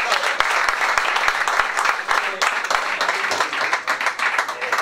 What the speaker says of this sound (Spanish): El aplauso para el útil prospecto de Chavarri